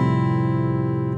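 A guitar's open strings ring together in FACGCE tuning as one sustained chord, loud and close, fading very slightly over its short span.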